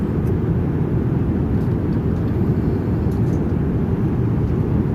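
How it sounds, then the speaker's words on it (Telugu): Steady, broad roar of an airliner cabin on an international flight, a constant low rumble with no breaks and no voices. "ఇంటర్నేషనల్ ఫ్లైట్ ఇది."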